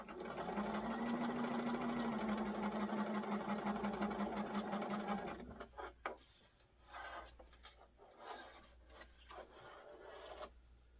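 A sewing machine stitches quilt blocks in a fast, steady whirring run for several seconds, then stops, leaving softer fabric handling and intermittent clicks.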